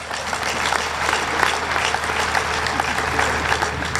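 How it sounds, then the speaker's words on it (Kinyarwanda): Lively clapping from a crowd at a Burundian religious gathering, a continuous wash of applause that holds steady and fairly loud for several seconds. "Dukomera amashyi Imana yacu."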